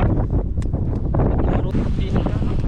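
Strong wind buffets the microphone outdoors in loud, continuous rumbling gusts, with people talking underneath.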